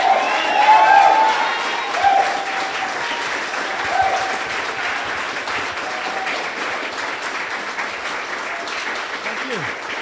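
Audience applause at a Seattle city council candidate debate, a steady wash of clapping from a crowd that swells loud at the start and holds at an even level, with faint voices and a few cheers mixed in.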